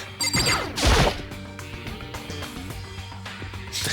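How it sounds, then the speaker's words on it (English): A telephone rings near the start with a bright burst of tones, then fades into softer lingering rings over a steady background with no one talking. "Oh god, my phone's ringing."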